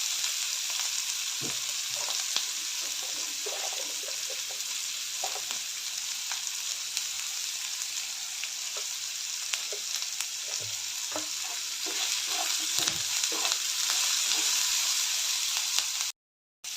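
Onion sautéing in a pan with salt, a steady close frying sizzle with occasional stirring clicks and scrapes, running continuously without talk until a brief cut at the end.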